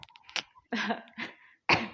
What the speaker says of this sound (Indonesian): Ya batuk deh gue